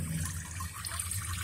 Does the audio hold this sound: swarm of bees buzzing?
no